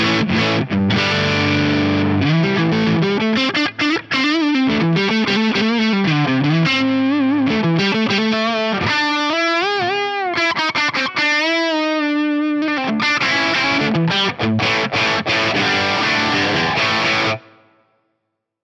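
Distorted electric guitar lead from a Strat through the FAS Lead 1 amp model at stock settings, playing a fluid, sustained melody with bends and held notes, loud and continuous before stopping abruptly near the end.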